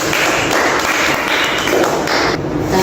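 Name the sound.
class applauding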